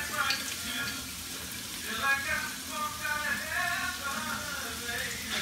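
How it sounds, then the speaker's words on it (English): Mushrooms and onions sautéing in a pan with garlic going in, a steady close sizzle with soft crackles and stirring scrapes, continuous at moderate loudness with no talk. "just saute some mushrooms and onions"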